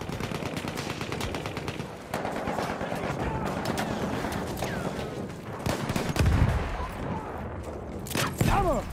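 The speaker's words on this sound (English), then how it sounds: "And a machine gun." Machine gun fire in the video game Battlefield 1, rapid sustained bursts of gunfire with scattered louder shots and battle noise, with faint voices now and then.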